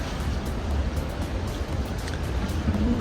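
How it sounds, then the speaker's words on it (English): Big ocean waves wash and rumble steadily below a cruise ship deck in bitter cold, mixed with gusty wind noise and no talking. "You can see the big waves."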